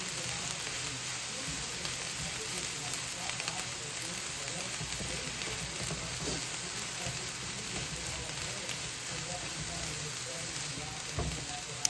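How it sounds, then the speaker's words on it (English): Pieces of meat sizzle and crackle in a hot pan as they are tossed and stirred with salt and pepper, a faint, continuous hiss with small pops and scraping throughout. "We're gonna give this a toss so that the salt and pepper can get incorporated into all of the pieces that we have in the pan here."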